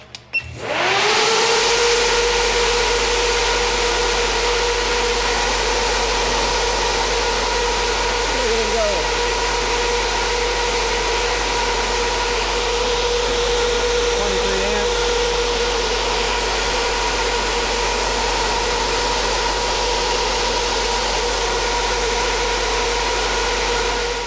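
16-inch SPAL brushless fan spinning up and running at full speed, a loud steady whooshing rush with a constant tonal hum that holds for over twenty seconds, faint voices underneath.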